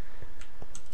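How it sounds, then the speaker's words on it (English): Clicky mechanical computer keyboard keys are pressed close up, a few distinct sharp clicks in an uneven typing rhythm over a steady background hum. "I'm not sure if you guys can hear my keyboard, because it's mechanical and all clicky"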